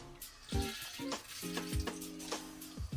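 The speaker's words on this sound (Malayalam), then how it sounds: "അപ്പോൾ നമ്മുടെ എണ്ണ നന്നായിട്ട് ചൂടായിട്ടുണ്ട് ഇനി അതുകൊണ്ട് കടുകിടാം" Mustard seeds dropped into hot oil for a Kerala chicken puttu, a crackling sizzle punctuated by several low thumps and knocks from the pan, close and alone.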